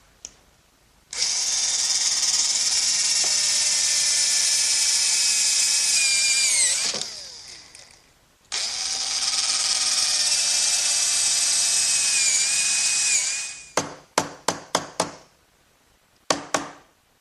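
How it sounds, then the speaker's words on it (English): A brad point bit drilling into wood on a workbench build, two long sustained whining runs of the power drill, then a quick series of sharp chisel knocks and taps as material is cleared away. "So I'll do that by using a brad point bit and a chisel to remove the rest of the material."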